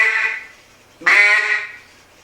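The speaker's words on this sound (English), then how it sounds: "I'll turn the call around so you can hear a quack." A duck call blown to make two loud, nasal quacks, the first fading out and the second starting sharply about a second later, close by with no talk.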